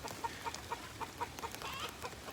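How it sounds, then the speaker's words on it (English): Backyard chickens near a coop, clucking in soft, fairly regular short calls over a steady outdoor background, faint and somewhat distant, with no talking. "Chickens are talking lots of trash today."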